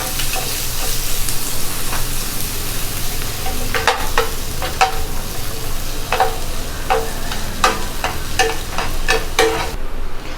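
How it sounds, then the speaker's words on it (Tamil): Onions sautéing with spices on a hot tawa give a steady, loud sizzle, with frequent sharp scraping clicks of a spatula stirring them throughout. "வெங்காயம் சேர்த்துட்டு நல்லா வதக்கி வச்சிடலாம்."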